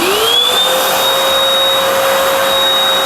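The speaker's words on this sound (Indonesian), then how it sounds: "kita bersihkan langsung ya, menggunakan vacuum cleaner" A 1000-watt BDWD08 wet and dry vacuum cleaner runs loud and close while cleaning up wood dust, giving a steady roaring whine with a rising tone at startup.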